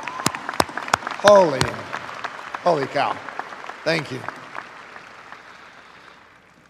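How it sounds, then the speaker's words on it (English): Audience applause at a high school graduation ceremony, a burst of clapping that swells and fades, with someone speaking briefly over it. "Will you four please stand and let's give them a round of applause."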